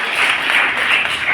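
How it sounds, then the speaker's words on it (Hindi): Loud applause from an audience at a prize ceremony at a career fair, dense rapid clapping sustained evenly throughout, close and bright. "जोरदार तालियां हो जाए।"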